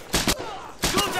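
Two short bursts of rifle fire crack out in Medal of Honor, loud and close, each a brief volley with a quiet gap between them.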